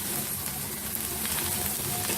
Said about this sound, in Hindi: इसके साथ हम ये ऑनियन को 1 मिनट के लिए फ्राई करेंगे इसके साथ ऐड करके।